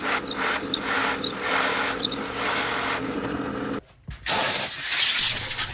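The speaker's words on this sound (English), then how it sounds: "I'm going to use a 3-inch hole saw to cut the hole." A 3-inch hole saw cuts through a wooden board with a loud, continuous grinding whir, pulsing slightly in rhythm, then stopping abruptly for a moment before resuming.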